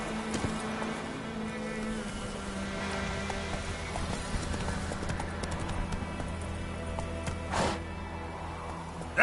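Roach, the horse in The Witcher game, gallops at a steady rhythm of soft hoofbeats with a low ambient hum beneath, moderately quiet and with no voices.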